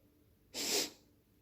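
A single short, breathy sniffing noise, fairly close, rising and fading within half a second against a quiet background.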